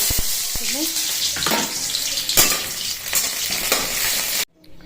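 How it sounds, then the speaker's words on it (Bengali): Sizzling and hissing of onion frying in a pan, with a few scrapes and clatters, before cutting off abruptly near the end. "একটু পেঁয়াজও ভেজে নেবো"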